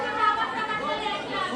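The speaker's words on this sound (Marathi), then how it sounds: "पाठीमागं गर्दी बघा किती झाली." A dense crowd chatters at a village temple gathering for the goddess Kelambadevi in Kharoshi, with many overlapping voices forming a loud, continuous hubbub close by.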